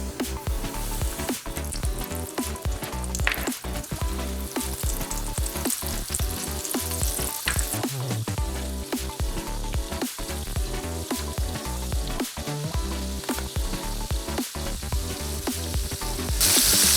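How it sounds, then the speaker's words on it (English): Fish pieces frying in hot oil in a pan for fish tacos, a steady close sizzle with crackling pops and occasional stirring clatter continuing for the whole stretch, with no one talking. "We're gonna let that fry for about 3 minutes on each side."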